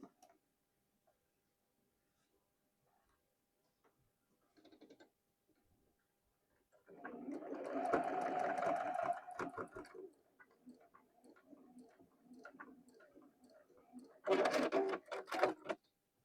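Sewing machine stitching the seams of a mini tote key chain, starting after a few faint clicks with a close, rapid ticking run of stitches, a pause with softer handling, then another fast burst near the end.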